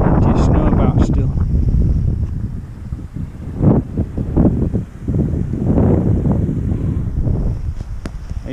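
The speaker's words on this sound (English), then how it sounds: "It's getting a bit windy" Strong wind gusts buffeting the microphone in bursts on a snowy winter walk near Dunford Bridge in the Pennines, Yorkshire, with someone talking over the roar.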